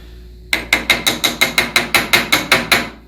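A part is tapped into place during the final installation of a 4L60E transmission. About a dozen sharp, evenly spaced metallic clicks ring out close and loud in a steady ratcheting rhythm.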